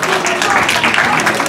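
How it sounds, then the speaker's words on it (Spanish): Audience applause for visiting journalists at a private school's school-journalism workshop, a burst of brisk, loud clapping from a room full of people, with voices mixed in. "Un aplauso para los periodistas que nos acompañan."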